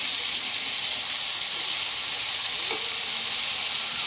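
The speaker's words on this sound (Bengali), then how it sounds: "মশলাটাকে আমি ভালো করে কষিয়ে নেব।" Spice paste with chopped tomato fries in a pan for jackfruit chicken curry, giving a loud, steady, close-up sizzle and hiss that continues throughout with no talking.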